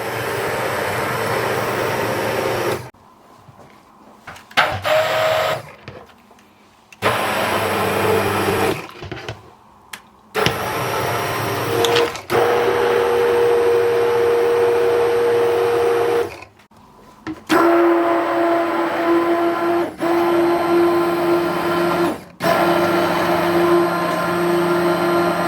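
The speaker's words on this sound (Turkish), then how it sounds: "3-4 dakika blender ile çekelim." A blender whips a butter mixture until foamy, running in several bursts of loud, steady motor whir broken by short stops and restarts, with the pitch shifting slightly as the mixture thickens.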